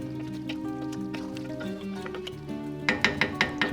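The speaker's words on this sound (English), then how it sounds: "you're going to give that a good stir." Spoon stirring Moroccan braised chicken with quartered dried apricots in a pot, soft scraping and wet churning, ending in a few quick sharp clinks against the pot.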